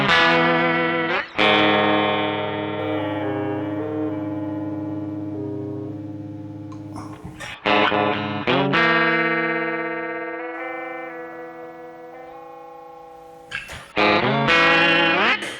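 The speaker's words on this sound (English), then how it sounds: "That's the pitch shifter." A guitar runs through a Caline Multimod pitch shifter, producing sustained, layered pitch-shifted notes that ring out loudly with a couple of brief breaks and no talking.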